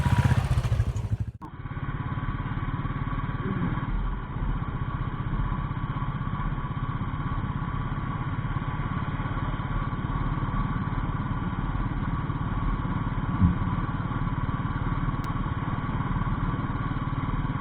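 Motorcycle engine running steadily as riders set off on an adventure trip to the Jawadhu Hills; after a brief loud burst at the start, a close, even engine drone holds without change for the rest of the stretch.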